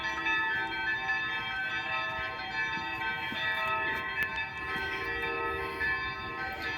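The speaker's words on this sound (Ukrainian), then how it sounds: "Дзвони б'ють якраз." Church bells ringing steadily outdoors near a garden flower bed, a sustained, shimmering peal of overlapping tones at moderate volume with no talk.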